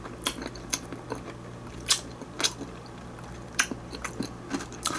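Crunchy sweet Samyang Jjanggu snack being bitten and chewed, a series of sharp crisp crunches at irregular intervals, close to the mouth, with no talk.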